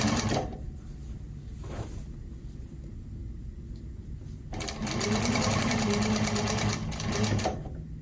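A sewing machine stitches a fabric box cushion with a welt in short runs, its close whirring stopping and starting, then running longer near the end.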